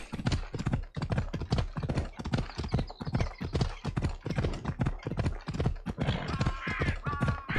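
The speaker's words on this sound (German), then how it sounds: "Das ist Pferd." Horse hooves clip-clop in a steady, brisk rhythm as a mount trots along in the video game Assassin's Creed Odyssey, close and continuous, with faint bird calls near the end.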